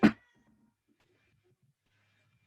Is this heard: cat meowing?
yes